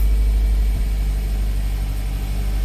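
A 2002 Toyota Corolla engine idles rough nearby, a steady low rumble that holds without a break and with no voices.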